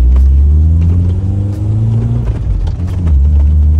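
An old rustic car's engine rumbles loudly up close while driving, its low growl rising and falling as the revs climb and settle, with road rattles mixed in.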